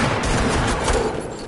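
Video game gunfire rattles in a loud, dense, continuous barrage of overlapping shots that lasts the whole moment.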